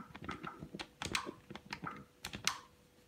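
Keys on a keyboard are tapped in short, irregular bursts, each press a crisp click heard up close at modest volume, with brief gaps between clusters.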